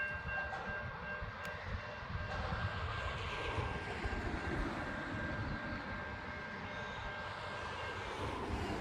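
Four freight locomotives climb through the Adelaide Hills in Australia, a sustained deep diesel rumble and drone with a steady whine above it, continuous and moderately distant with no talk.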